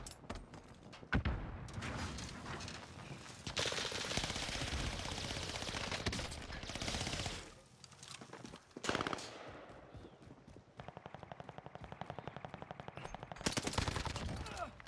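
Sustained automatic gunfire from a 100-round gun in a video game, rattling in long loud bursts with brief gaps and sharp explosive pops, continuing almost throughout.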